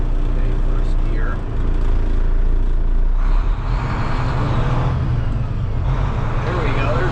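A semi truck pulling away in first gear, its diesel engine rumbling steadily and loud from inside the cab, rising in strain as it moves off, with the driver talking over it.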